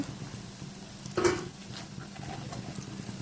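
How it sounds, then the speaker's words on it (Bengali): Fried snacks are lifted out of hot oil: a soft, steady sizzle hums under one bright metallic clink of the scoop, all fairly quiet and close. "এগুলো ভাজা মোটামুটি কমপ্লিট এখন এগুলো সব উঠিয়ে নিব তেল থেকে"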